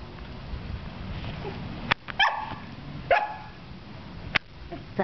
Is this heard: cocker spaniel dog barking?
yes